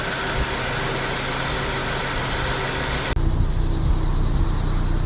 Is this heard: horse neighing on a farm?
no